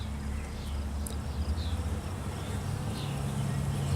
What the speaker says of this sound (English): We've gained a frame of bees.